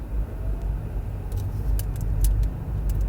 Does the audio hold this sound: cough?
no